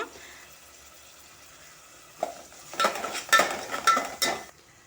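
Onions fry in oil with turmeric, a soft sizzle that swells as a spoon stirs and scrapes the pan in several clattering bursts, close by with no talk.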